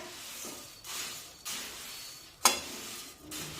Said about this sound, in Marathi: अगदी मंद आचेवर हे मुरमुरे आपण छानपैकी दोन ते तीन मिनिटे भाजून घेऊया